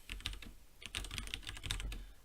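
Keys clatter on a computer keyboard while code is typed, a close, quick run of irregular tapping with brief pauses between bursts.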